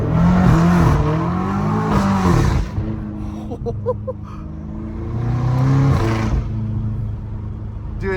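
A catless BMW M5 Competition exhaust roars loud and close, the revs climbing and falling in a few rough sweeps, with a brief voice fragment in the middle.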